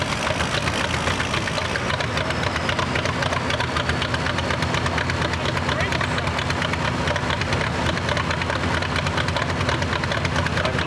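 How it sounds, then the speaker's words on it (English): A pulling tractor's engine roars and knocks continuously and loudly at an outdoor pro tractor and truck pull in Langford, New York, a dense, unbroken mechanical drone with an announcer talking over it. "That might be his Uncle Jeff's tractor, if I'm not wrong"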